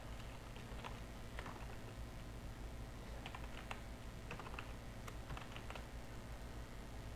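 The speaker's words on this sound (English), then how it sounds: "we can type anything we want" Steady typing on a computer keyboard, a continuous patter of quick, light key clicks with occasional sharper taps, fairly close over a low background hum.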